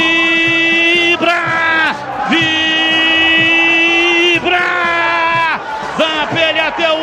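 Football crowd at the Majestoso stadium roaring and chanting after Yuri's goal for Ponte Preta against Inter de Limeira, a loud sustained mass of voices with rising cheers and horn-like tones throughout.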